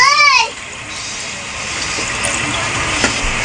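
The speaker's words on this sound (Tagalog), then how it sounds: "Lagyan na natin ng tubig, mga kumari." Water pouring into a cooking pot of sopas pasta soup, a steady rushing flow after a brief voiced sound at the start, moderately loud and close.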